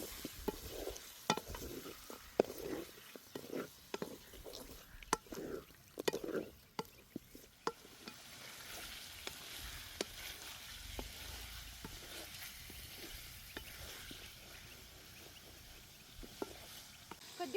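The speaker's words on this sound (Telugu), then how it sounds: "రెడీ చేసి పెట్టుకున్న చికెన్ని బాండ్లో వేస్తాను. మసాలా ముక్కలు బాగా పట్టేలాగా కలుపుతున్నా." Chicken is stirred with masala in a frying pan, with soft scraping and clatter from the stirring over a faint, steady sizzle, fairly quiet throughout.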